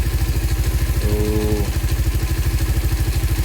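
A Raider 150 FI motorcycle engine idles steadily up close, a loud continuous low throb with an even pulsing rhythm, and a brief whirring tone rises over it midway; a single spoken word comes at the start.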